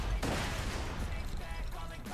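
Rapid bursts of gunfire from guns in Borderlands 2, dense and loud, crackling through a noisy short stretch.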